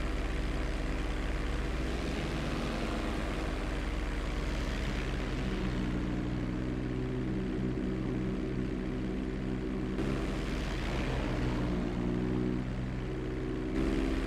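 A CV-22B Osprey tiltrotor flying low through a canyon in GTA 5 gives a steady, droning rotor and engine hum that holds at an even level throughout, with no talk.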